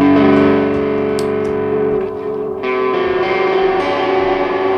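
Electric guitar with overdrive ringing out through a warbling, echoing modulated delay pedal, an EarthQuaker Devices Disaster Transport, notes sustaining and smearing together, loud and close.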